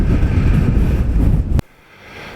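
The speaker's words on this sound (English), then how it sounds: "Gosh, it's windy." Strong wind buffeting a microphone on a cliff-top walk at Bennan Head, loud and roaring for about a second and a half before cutting abruptly to a much quieter gusty background.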